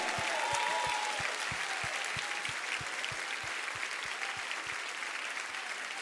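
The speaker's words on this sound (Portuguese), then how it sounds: "Vamos aplaudir forte aí, gente." Applause from a church congregation at a worship service fills the space, thick and sustained, with regular rhythmic thumps pulsing beneath the clapping.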